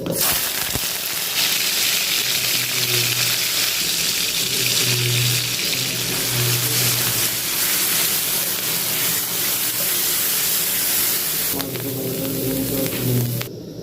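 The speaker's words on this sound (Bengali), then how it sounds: "তেলটা গরম মাছে চিংড়ি মাছগুলো দিয়ে দেবো।" Prawns sizzle in hot oil in a wok on a gas stove, a loud continuous hiss and crackle of frying that fills the whole stretch with steady intensity.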